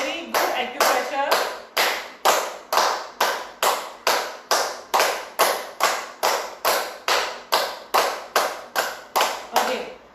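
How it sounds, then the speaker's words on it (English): Hands clap in laughter yoga, a steady run of about twenty sharp, evenly spaced, loud claps close by, each ringing briefly, continuing without pause. "Okay, so we start with clapping."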